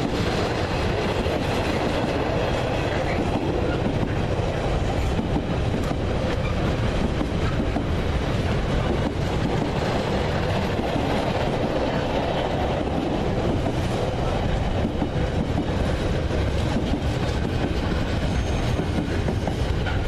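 Freight train 4M61 from Southampton to Crewe, led by two Class 66 locomotives 66571 and 66504, passing close by at Basingstoke with a loud, steady roar of wagons and continuous wheel clatter and squeal throughout.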